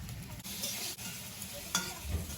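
Potatoes frying in a pan with turmeric and salt, a steady close sizzle with scraping stirring strokes throughout.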